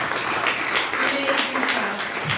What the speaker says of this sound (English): We owe him a huge round of applause